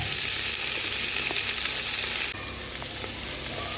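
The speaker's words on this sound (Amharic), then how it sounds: "ይሄው እንደዚህ እያበሰልኩ ነው የሚገኘው።" Steady loud sizzle of food frying in sesame oil in a pan, continuous and close, easing slightly partway through, with no voices.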